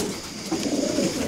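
A pigeon coos softly, low rolling calls close by against a steady background hiss, with no talking.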